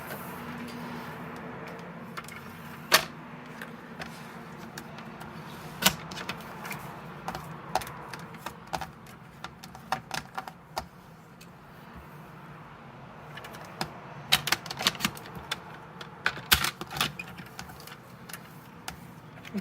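Paper being cut for a handmade memories box craft project, heard as quiet, close, irregular snips and clicks scattered over a soft room background, with no talking.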